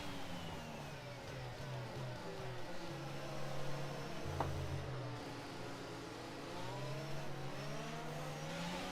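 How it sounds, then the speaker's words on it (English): A Formula 1 car in F1 22 weaves to warm its tyres at Bahrain, the engine droning and rising and falling in pitch through gear changes, steady and close, with a brief sharp transient midway. "Let's warm up the tyres."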